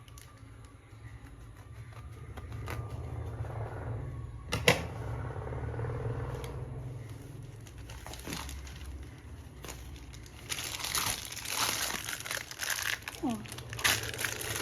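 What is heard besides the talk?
plastic packet of a candle making kit being unboxed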